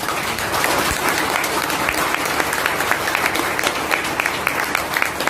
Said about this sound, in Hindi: एक बार पहले ताली बजा लीजिए आप लोग